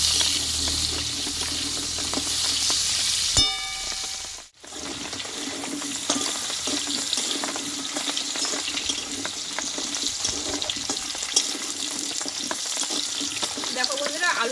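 Potatoes fry slowly in oil with a constant hiss close to the pan, one brief dropout partway through, then steady sizzling with occasional faint stirring; nobody talks.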